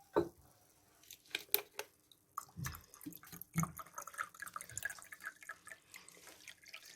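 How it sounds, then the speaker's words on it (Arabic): Vinegar trickles and splashes into a glass jar in quiet, uneven pours and drips while a mouthwash is mixed, close by with no talking. "التلت الاخير هنكمله بالخل"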